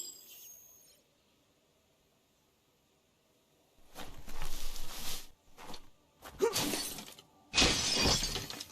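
A box is smashed apart in the video game Biomutant: after a quiet stretch, several loud crashing bursts of breaking and shattering come one after another, close and sharp.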